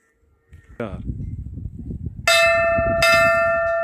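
A temple bell in a Himalayan mountain village rings loud and close, struck twice with a long ringing decay, over a busy background of murmuring and movement.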